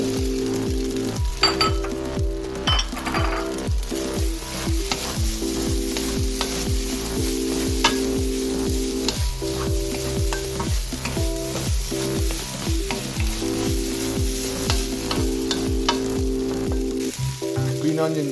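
An egg frying in a hot pan for shrimp fried rice gives a loud, constant sizzle broken by rhythmic stirring clinks and scrapes, close up and alone without talk.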